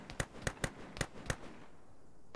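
Gunfire in a cooperative military video game: five sharp, evenly spaced shots crack in quick succession, then a short quiet gap before another burst at the very end.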